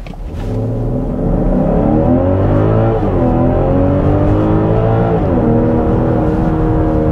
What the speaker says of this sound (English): I got the car in sport mode basically, so I'm gonna just test that out real quick.